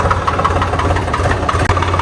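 A farm tractor engine idles steadily with a deep, throbbing low rumble and a continuous mechanical chug outdoors on a field worksite, close and loud with no talk.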